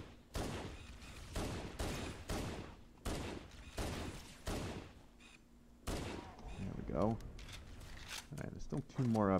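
Gunfire rings out in the Halo video game in bursts of rapid shots, several long volleys separated by short pauses, with a player's voice talking over the shooting and electronic whines toward the end.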